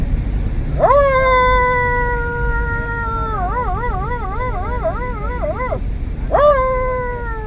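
A person imitates a dog howling, loud and close. A long rising howl holds steady, then wavers with a wobbling tremolo and breaks off. A second short howl comes a moment later.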